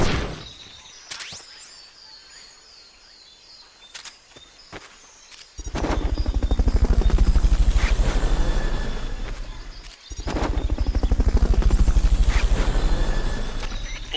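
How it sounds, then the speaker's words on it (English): A Fulton recovery helicopter in the video game Metal Gear Solid: Peace Walker approaches after a stretch of quiet clicks and small sounds, its loud pulsing rotor thump swelling in two long surges with a brief dip between. "Fulton recovery helicopter is complete."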